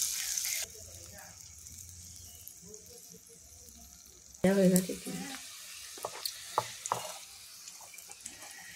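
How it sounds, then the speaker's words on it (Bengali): Cauliflower pieces frying in a pan in a small home kitchen, a soft sizzle running beneath a voice that talks over it, with a louder clatter of cooking partway through. "কপিগুলো ভাজা হয়ে গেছে"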